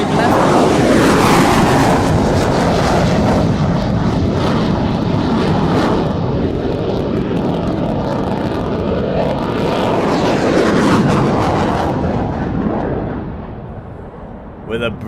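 An F-18 fighter jet in a flying display at the Royal International Air Tattoo, a loud continuous jet roar that swells and shifts in pitch as it passes, with some wind buffeting, easing off slightly near the end.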